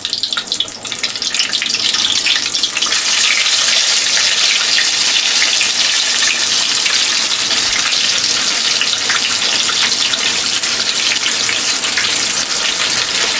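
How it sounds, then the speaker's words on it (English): Marinated fish drops into hot oil and fries with a loud, steady, dense hiss and crackle that runs unbroken and close throughout, with no talking. "now we can drop the fish in the oil"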